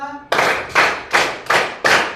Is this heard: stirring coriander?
no